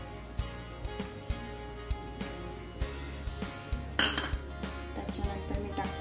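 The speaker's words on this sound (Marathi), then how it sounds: "आता मी ह्याच्यात टाकणार आहे पायनॅपल पल्प आपला" A spoon scrapes and taps against a pan as pineapple pulp is stirred into sheera, making repeated soft metallic clinks with one louder clatter, close and quiet.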